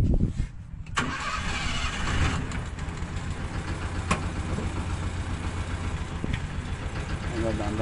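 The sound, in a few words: car engine starting during driving lesson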